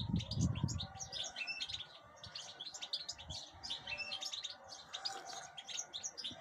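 Goldfinches with their chicks in an aviary cage, a dense stream of quick high chirps and twitters that runs throughout at moderate distance, with a soft low rumble of handling noise near the start.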